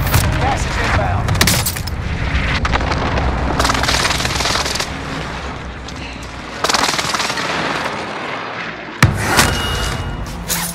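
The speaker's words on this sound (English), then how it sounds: "Enemy precision airstrike." Enemy precision airstrike pounding the ground in a video game: loud, dense rolling explosions and rapid thumping blasts stacked over one another, easing briefly before another sharp boom hits near the end.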